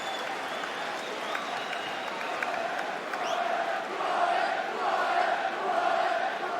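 Scunthorpe United fans applauding in a stadium during a Carling Cup match against Manchester United: a steady, distant crowd roar with diffuse clapping that swells slightly toward the end.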